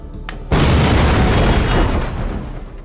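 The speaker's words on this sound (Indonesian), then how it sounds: "mereka semua sedikit menjauh dan ledakan pun mulai dilakukan" A blast set off to breach a bored-through safe bursts out after a short quiet lead-in, then a loud, sustained rumbling roar that slowly tails off, with no talking.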